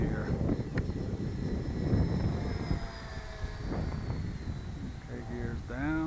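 FreeWing ME262 RC jet making a flyby pass, its electric ducted-fan whine swelling and fading at a distance while someone talks over it.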